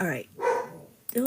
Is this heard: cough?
no